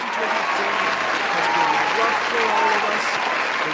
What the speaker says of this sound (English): Someone applaud, please